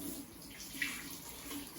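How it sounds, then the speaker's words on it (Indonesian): Tap water runs steadily for handwashing, a soft, continuous hiss that is faint and close. No one is speaking. "Yang pertama, menggunakan air mengalir."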